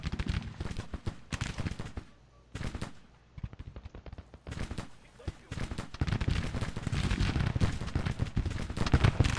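Dense gunfire and booming artillery from an American Civil War video game set in the 1863 Union campaign, with rapid crackling volleys that pause briefly and then swell into a loud, continuous barrage.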